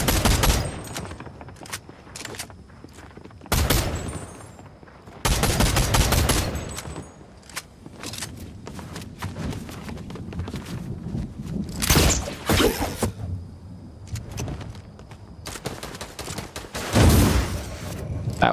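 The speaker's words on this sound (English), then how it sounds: "Just shooting at random bushes." Gunfire in the Fortnite video game: repeated bursts of rapid automatic shots separated by quieter gaps, loud and close, with a few isolated single shots between volleys.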